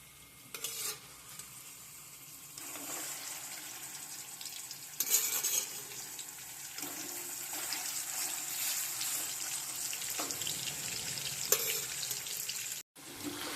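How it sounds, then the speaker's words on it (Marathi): Paneer cubes frying in a few spoons of oil in a kadai, a steady close sizzle with occasional stirring clatter, continuous and fairly loud with no talking. "त्याच कढईमध्ये परत 4 ते 5 चम्मच तेल टाकून घेतलेलं आहे आणि आपलं पनीर आपण तळून घेत आहोत"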